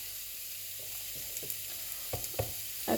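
Fish frying bhuna-style with ginger paste and chili powder gives a steady, close sizzle throughout, with a few soft stirring scrapes and clicks near the end.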